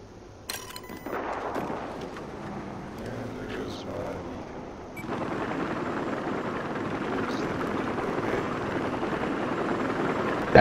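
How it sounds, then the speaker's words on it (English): A helicopter's rotor drones continuously in Battlefield 4 on the Siege of Shanghai map, rising after a few seconds, mixed with game effects and players talking over it. "I spotted a hostile helicopter just east of your location."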